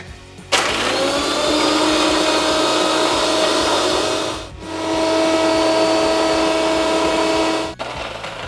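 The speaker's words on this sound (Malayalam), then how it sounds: "പിന്നെ നമുക്കൊന്ന് ജസ്റ്റ് ഒന്ന് കറക്കിയെടുക്കണം" A loud mixer grinder whirs in two continuous bursts with a short pause between, blending cardamom with ice cubes, its motor whining steadily close by, then cutting off.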